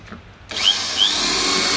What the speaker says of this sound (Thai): เดี๋ยวผมจะลองทดสอบลองเจาะผนังปูนดูนะครับ